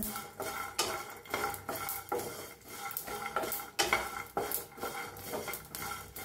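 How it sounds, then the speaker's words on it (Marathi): Coconut, peanuts and whole spices dry-roast in a pan, with a spoon scraping and clattering against the metal in quick, irregular strokes, close and moderately loud, with no talk. "हे खोबरं आणि शेंगदाणे भाजायला आलाय, त्याच्यात सगळे खडे मसाले भाजून घेऊया।"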